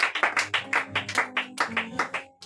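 Congregation at a Wednesday teaching church service clapping and acclaiming, a burst of quick, uneven handclaps with a few excited vocal calls mixed in, close and lively for a couple of seconds.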